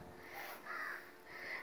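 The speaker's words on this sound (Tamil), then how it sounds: "காக்கை ஏ காக்கா பாருங்க, பறக்குது பாருங்க." A crow caws outdoors, giving a few harsh calls in a row, faint and distant over steady background noise.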